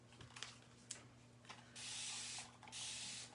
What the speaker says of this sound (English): spray some water on that